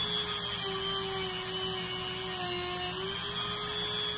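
A Dremel rotary tool whines steadily while cleaning guitar parts, a continuous high-pitched motor tone holding close and even with slight pitch wobble, no talking over it.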